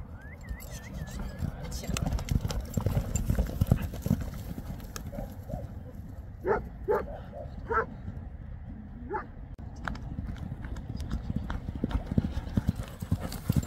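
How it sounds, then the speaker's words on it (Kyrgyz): A stout horse gallops past with rhythmic clip-clopping hooves, loudest in the middle, while dogs bark and yip nearby and outdoor background noise continues throughout. "атты чаптырдык"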